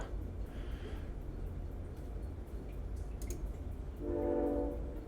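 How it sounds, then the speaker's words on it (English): A train rumbles past with a steady low roar in the game Shadowrun: Dragonfall, and a short tonal horn blast sounds near the end. "We got trains coming through."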